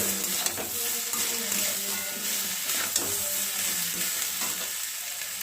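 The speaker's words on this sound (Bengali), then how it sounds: "অল্প করে চিনি এটাকে ভালো করে মিশিয়ে দিচ্ছি" Cauliflower filling with chilli and sugar sizzling in a pan while being stirred, a continuous close frying hiss broken by regular scraping strokes of the spatula.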